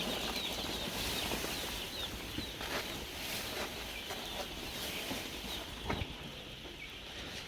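Hens on an Indian desi poultry farm raising egg-laying birds, with repeated wing flaps and soft clucks spread through a steady low barn background, moderately near and without talk.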